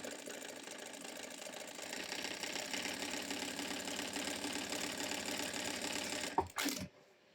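A sewing machine runs a decorative stitch pattern with double thread, humming in a fast, steady mechanical chatter that builds slightly, then stops abruptly near the end with a clunk.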